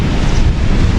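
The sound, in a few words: sea waves on a beach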